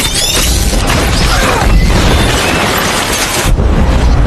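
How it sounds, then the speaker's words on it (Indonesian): A house blows up in a loud, sustained explosion that roars with crashing debris and rumbling, dense and close, continuing for several seconds without pause. "secara tiba-tiba helm tersebut aktif dan meledakkan rumah"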